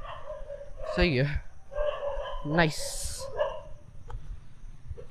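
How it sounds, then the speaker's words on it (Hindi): Several dogs bark and yelp outdoors in a street fight, with two or three dogs barking back from above at a larger pack. The barks come in sharp bursts, and people talk over them. "पाँच दस कुत्ते एक"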